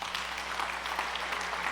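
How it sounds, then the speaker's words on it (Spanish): Church audience applauding a preacher at a Spanish-language service, a steady dense wash of clapping held at an even level throughout, with no voices over it. "Denle un aplauso al maestro"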